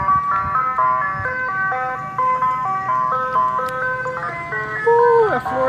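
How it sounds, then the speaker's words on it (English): An ice cream truck jingle plays loud and close, a bright repeating melody that bends downward in pitch at the end, heard on a sunny Florida day with a faint murmur of voices behind it. "So the ice cream truck comes every Friday."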